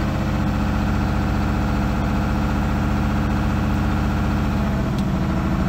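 A Kenworth T300 truck engine held on high idle, a steady, loud, close diesel drone with a throbbing low rumble that stays even throughout.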